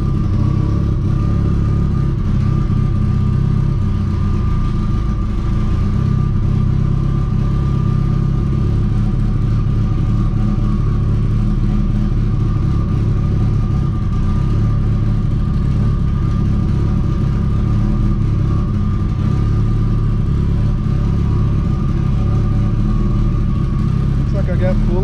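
A car engine fitted with a new triple-disc competition clutch idles with a loud, steady rumble close by, and the drone continues throughout with no clear breaks.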